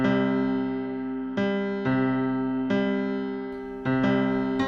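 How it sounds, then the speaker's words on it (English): Planetary orbital frequencies sped up into audible range ring out as sustained, steady harmonic tones, forming chords in which new notes enter in layered steps at roughly regular intervals, clear and alone with no voices. "What you're hearing are the actual orbital frequencies, sped up into the human hearing range."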